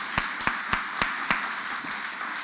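A small audience at an awards ceremony gives thin applause for the nominees. Half a dozen distinct claps come at an uneven pace, fairly close, with no voices over them.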